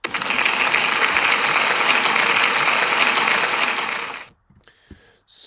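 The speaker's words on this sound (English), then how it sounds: "Can we give Fleur a big round of applause" Clapping from a school assembly crowd fills the room for about four seconds, dense and steady, then stops abruptly, leaving only a few faint bumps and rustles.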